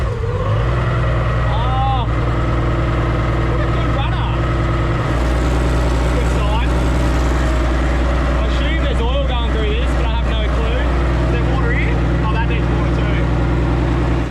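Turbocharged Barra-engined boat idling steadily, a loud constant low rumble with tonal hum throughout, close by, with people talking over it.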